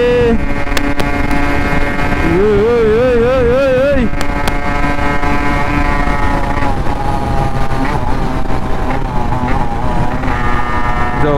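Loud, constant wind roar buffets the microphone of a moving Kata bike alongside engine drone, with a voice speaking briefly early on.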